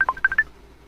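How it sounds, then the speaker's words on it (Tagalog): A cellphone goes off with a short burst of electronic beeps, five quick tonal pips in an uneven rhythm, close and fairly clear, then fading to quiet room hiss. "Natingog mo yung cellphone mo."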